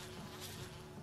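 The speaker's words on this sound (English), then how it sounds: "So now we can get rid of these bees the easy way" Bees buzzing around their hive in the Resident Evil game, a steady insect drone that fills the whole brief moment without any talk.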